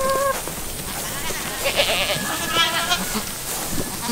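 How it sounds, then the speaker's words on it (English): Several goats bleat repeatedly at close range in short, wavering calls that overlap one another, with no talking during the calls. "You goats know better."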